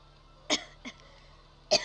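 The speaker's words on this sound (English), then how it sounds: "Sorry about my cough." Two sharp coughs about a second apart with a smaller throat sound between, against a quiet hum.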